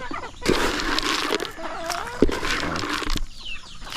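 Free-range chickens on a farm clucking and calling near the microphone, scattered warbling calls over busy outdoor ambience with a few sharp knocks.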